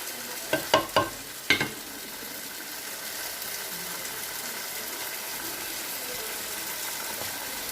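Chickpeas sizzle in a hot pan with onions for couscous, with a few sharp clatters at the start, then a steady, even frying hiss.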